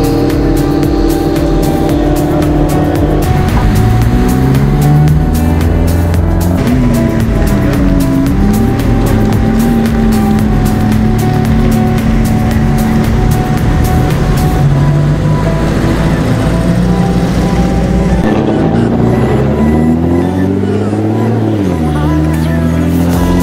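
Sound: cars preparing to launch at drag race track day

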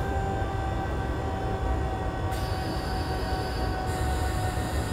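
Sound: S-Bahn train braking in Train Simulator 2020 video game

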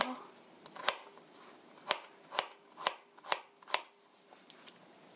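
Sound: knife slicing pear for pancake

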